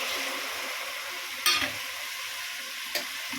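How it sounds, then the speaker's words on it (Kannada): Fenugreek leaves sizzling gently in a pan after frying tomatoes, a steady soft frying hiss with two sharp stirring scrapes, close and alone without talk. "ಮೆಂತ್ಯ ಸೊಪ್ಪು ಸ್ವಲ್ಪ ಬಾಡಿಸ್ಕೊಳ್ಳೋಣ"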